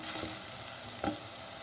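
Onions frying in oil in a pan for börek filling, a steady close sizzle with a couple of brief stirring scrapes.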